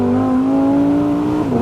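Lamborghini Sterrato supercar on a rough road, its engine holding a loud, steady drone close by with a slight shift in pitch near the end, and no talk.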